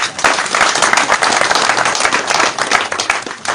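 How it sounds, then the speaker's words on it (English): A loud round of applause from an audience of newly elected MPs gathered for Bobi Wine's address, dense, crackling clapping from many hands, close and sustained throughout with slight surges. "Another round of applause, please."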